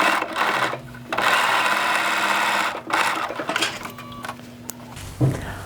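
Sewing machine top stitching an elastic casing closed on a fabric catch-all bag, a steady close-up mechanical whir broken by a few short pauses and a soft clunk near the end.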